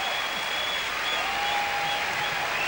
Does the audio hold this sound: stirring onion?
no